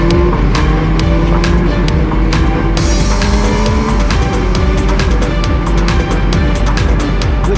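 An MV Agusta Turismo Veloce 800 Lusso motorcycle engine drones loudly and steadily throughout, its revs rising and falling with sharp shifts that suggest auto-blipped downshifts, under a constant rush of wind.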